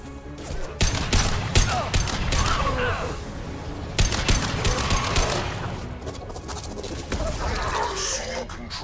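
Gunfire crackles through a firefight in Mass Effect 2, with sharp bursts at steady intervals layered over constant loud battle noise and sci-fi effects, plus some voice-like sounds in the mix.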